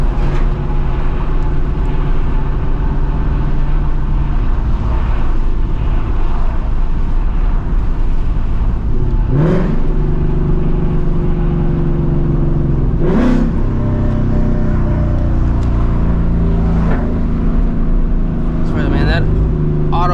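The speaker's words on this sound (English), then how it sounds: "the car sounds great with the auto rev match." A Ford Mustang GT S650 V8 engine hums steadily, with several sharp auto rev-matching blips spaced a few seconds apart as gears change, heard from inside the cabin.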